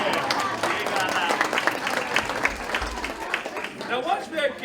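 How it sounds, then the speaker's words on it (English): Audience applause at a Christmas stage show following a magic trick, dense clapping spread across the whole stretch with crowd murmur and a voice talking over it. "Give her a round of applause."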